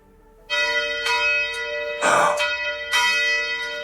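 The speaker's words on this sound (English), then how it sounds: "there's the bell." A bell rings out several times, loud resonant strikes with long ringing overtones, with a burst of noise in between the strikes.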